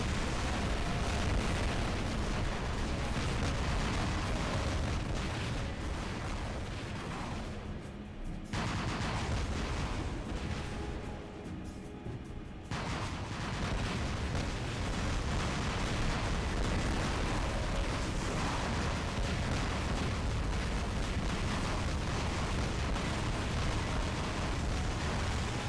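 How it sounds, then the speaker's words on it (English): Trebuchet weapon explosions pound continuously in War Robots, a dense, loud roar of blasts and fire that drops out briefly in the middle before resuming at full force. "Oh man, I got hit by Trebs."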